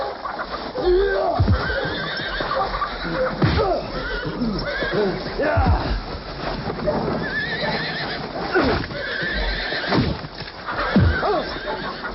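A horse neighs repeatedly in loud whinnies, with clip-clop hoofbeats and faint talk in the background, set in a 1990 Western.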